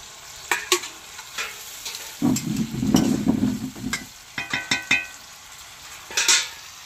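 Water poured into a hot pan with tomato in an Indian village kitchen, a burst of loud sizzling and bubbling after scattered utensil taps and clinks, then more clatter.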